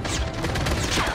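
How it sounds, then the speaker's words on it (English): A rifle magazine is swapped in Call of Duty: a quick burst of metallic clicks and rattles, close and brief, over busy game background. "Changing mag!"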